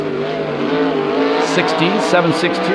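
A 410 sprint car on a qualifying lap at an oval track, its engine droning loud and close with a rising harmonic whine and shifting pitch as it passes, while an announcer talks over it.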